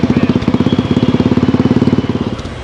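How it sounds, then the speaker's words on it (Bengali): A motorcycle idling at the start of a road safety bike rally in Kolkata, a close, loud, rapid even thumping putter that holds steady for about two seconds and then fades slightly. "তো এই এখন স্টার্ট হবে আমাদের র্যালি মোটামুটি দশ বারোটা বাইক আছে"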